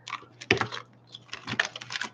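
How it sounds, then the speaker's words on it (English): Tarot cards being shuffled by hand in a quiet room: quick papery clicking and riffling bursts in uneven clusters, close to the microphone, over a low steady hum. "let's do a few more shuffles"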